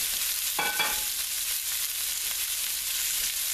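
Carrots, onions and garlic fry in a pan for Swiss steak, a steady bright sizzle with a brief stirring scrape near the start, close and continuous, no talking.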